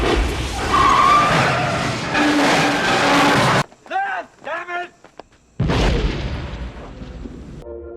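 A car in Escape From New York hits a landmine and explodes in a loud, roaring blast with skidding, followed by a gap of speech and then another heavy rumbling burst.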